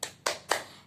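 Three sharp, evenly spaced claps open a rhythmic classroom clapping chant, close and crisp, each with a short decay.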